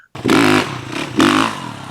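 A dirt bike engine snaps up to a loud, raspy rev and drops quickly, then blips up again and falls off once more. The two sharp bursts are close and loud.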